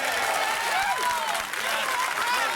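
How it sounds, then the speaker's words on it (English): Applause in the House of Commons: a dense, loud wash of clapping from a packed chamber, steady throughout with no pauses. "which is why these giant applause breaks for Tan are a big deal"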